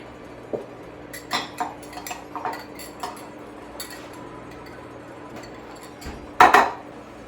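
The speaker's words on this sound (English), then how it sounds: "so we want to stir this all together" A utensil clinks and scrapes against a bowl while a tomato salad dressed with lemon juice and olive oil is stirred, with scattered light taps and one louder clatter near the end in an otherwise quiet room.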